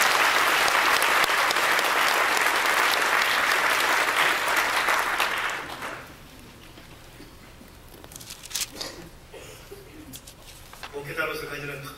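Church congregation applauding together, a loud, dense wash of clapping for about five seconds that then fades, leaving quiet room sound with faint talk and a few stray noises.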